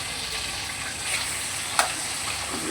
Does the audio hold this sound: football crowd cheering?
no